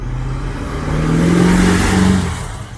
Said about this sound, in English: this is the guy with the big bad truck doing the burnouts